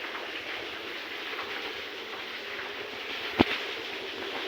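A steady, rain-like patter of water spraying from a sprinkler, even and continuous, with one sharp tap near the end.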